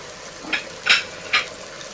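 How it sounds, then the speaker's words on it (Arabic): Chicken and spices being stirred in a hot frying pan, three short scraping strokes of a utensil over a soft steady sizzle, close and fairly crisp. "نبداو نحركو نخلطو التوابل مع الدجاج باش كيشرب"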